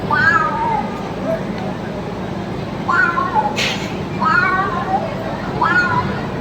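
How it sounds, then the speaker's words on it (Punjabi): Two cats squaring off, letting out a string of drawn-out, rising and falling meows and yowls spaced a second or two apart, loud and close against a constant outdoor crowd murmur. "ਦੋਨੋਂ ਬਲੀਆਂ ਆਪਸ ਲੜਨਾ ਸ਼ੁਰੂ ਕਰ ਦਿੰਦੀਆਂ"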